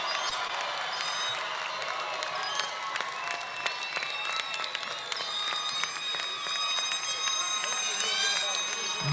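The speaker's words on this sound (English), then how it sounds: "Let's give a round of applause to all the graduates of the class of" Sustained applause from a large audience honoring graduates at a 2022 community college commencement ceremony, dense and steady throughout with some cheering mixed in.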